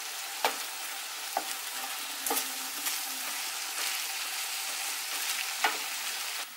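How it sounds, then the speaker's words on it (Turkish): Onions and minced meat fry in oil in a pan, giving a continuous bright sizzle broken by several sharp clicks and scrapes of stirring, close and alone without speech. "soğan ve kıymalar kavrulmaya başlayınca biberleri de ekledim üzerine"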